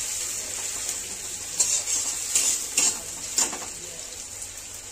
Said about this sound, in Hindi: अब इसको ना अच्छे से फ्राई होने देते हैं